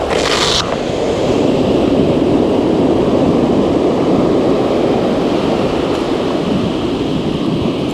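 Ocean surf rolls in at a beach where someone is surf fishing, a steady broadband wash of waves mixed with wind noise on the microphone, continuous throughout.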